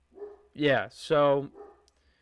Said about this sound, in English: my dog agrees with that, with her barking